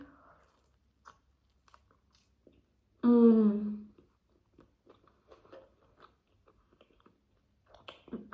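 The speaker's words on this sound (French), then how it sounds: "Les oignons, ça, c'est bien croquant." Someone chews a bite of vending-machine pizza topped with crunchy onions, cheese and meat, making faint close crunches and mouth clicks with a brief vocal hum of enjoyment in the middle.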